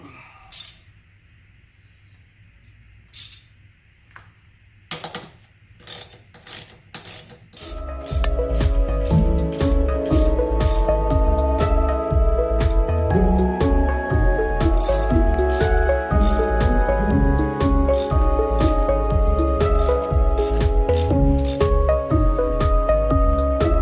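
A ratchet tightens the bolt on a plastic hydrofoil bracket of an SE Sport 400 outboard, with a few sharp ratchet clicks at first and then a steady, loud mechanical whir full of dense clicking, close to the listener.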